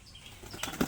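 A pigeon takes off with quick, soft flapping wing beats that grow louder toward the end, brief and close with no voices.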